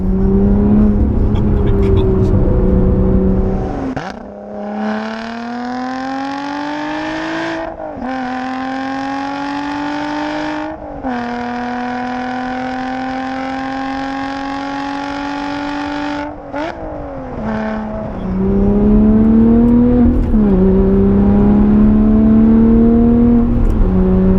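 A 400 bhp Lotus Evora 400 engine revs hard and accelerates through several gears, the rising note climbing and dropping at each shift, loud and close from inside the car, with brief voices at the start and end.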